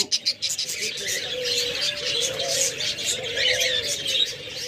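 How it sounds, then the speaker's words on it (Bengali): Diamond doves sitting in nest pots give soft repeated coos and chirps, a steady layer of bird calls close by with faint background noise. "চমৎকার ডায়মন্ড ঘুঘুগুলা একদম ডিম পাড়া পাত্রে বসে আছে"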